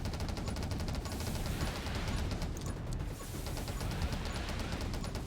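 Continuous rapid gunfire from the top-down survival shooter 20 Minutes Till Dawn, a dense steady crackle of shots layered with game effects, loud and unbroken with no voices.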